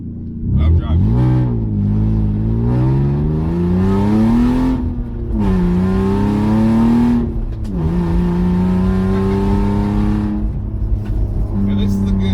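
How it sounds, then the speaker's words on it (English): An old sedan being driven on a neighborhood road during a test drive, its engine note rising and falling through gear changes, loud and continuous from inside the cabin with a voice talking over it. "Now this is a good test drive because I've only driven it up and down the block in my neighborhood."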